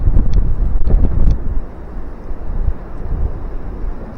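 Strong wind roars and buffets a microphone outdoors in a rural Iowa snow storm over an open field, loudest in the first second and a half, then a steadier rushing gust.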